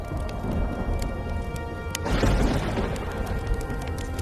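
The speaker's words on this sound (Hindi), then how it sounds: "और जोर जोर से बिजली कड़कने लगती है।" Cartoon thunder crashes loudly about halfway through, a sudden burst that rolls into a rumbling tail over a steady patter of rain, with no voices.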